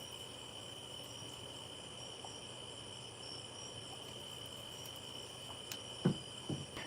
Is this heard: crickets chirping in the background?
yes